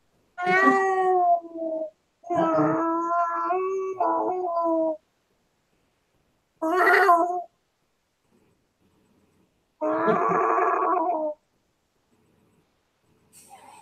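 A cat meows repeatedly: several drawn-out, wavering calls in the first five seconds, then two more after long silent pauses, loud and close with nothing else heard.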